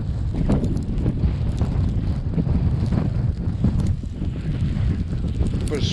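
Strong wind blowing outdoors on a freezing winter day near a partly iced stream, a steady loud rushing and buffeting roar across the whole stretch with no voices.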